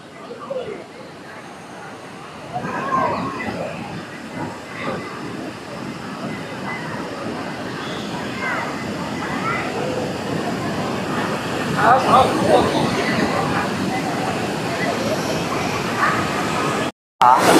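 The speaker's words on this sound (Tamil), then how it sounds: "தண்ணி விழுகிற சவுண்ட் அந்த அளவுக்கு இடத்துல இருக்கு" Steady roar of falling water at Kodiveri dam waterfall near Sathyamangalam fills the whole stretch, broad and constant, with a voice faintly audible beneath the rush.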